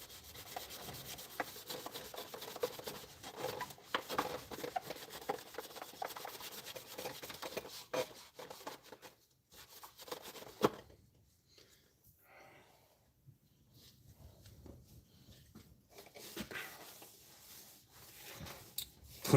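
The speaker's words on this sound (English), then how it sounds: "cleaning my welding helmet" A welding helmet is scrubbed and wiped by hand in close, uneven rubbing strokes, busy and scratchy at first, then thinning into sparser, quieter wiping.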